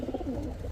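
A pair of Pakistani Jhak-gola pigeons gives a brief, close, low throaty coo, short and soft with no talk over it.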